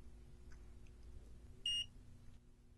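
A single short electronic beep, about a fifth of a second long, sounds clearly once from an RP460 optical power meter over a faint background hum.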